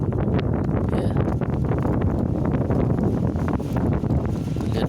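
Strong, steady wind roars and buffets the microphone at the lava dome crater mouth of Merapi volcano in the morning, a dense, unbroken rumble that stays loud for the whole stretch.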